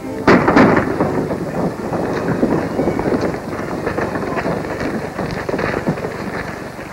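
Rapid gunfire from a western film shootout, a dense barrage of overlapping booming shots that rumbles continuously and loudly throughout, with no clear pauses.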